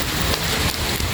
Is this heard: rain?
yes